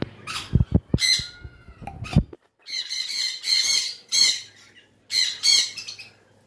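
A blue yellow-side lovebird lets out a series of sharp, close squawks and chirps in short bursts, with a few low thuds and rustles near the start.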